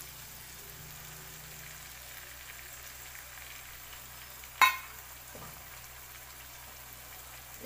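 Three cracked eggs land in hot oil in a pan and fry with a steady, soft sizzle throughout, one sharp clatter partway through, no voices.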